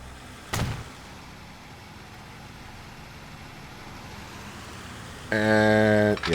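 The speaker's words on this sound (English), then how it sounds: "Let's get rid of that traffic noise." A continuous low hum of road traffic and idling engines from the Transport Fever video game rumbles faintly, with a short sharp click near the start and a louder tonal game sound at the end.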